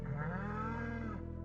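A dairy cow in the Stardew Valley farming game gives a single long, close moo lasting over a second, with a steady low tone that fades at the end.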